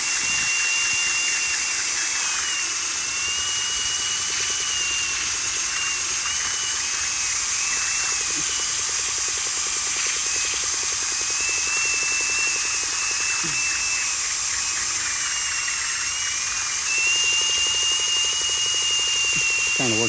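Spinning hand-held rotary tool chasing the threads of a pipe while fixing a leak detector valve, a loud sustained high-pitched whine with slight pitch wobbles as the tool moves, running continuously for twenty seconds.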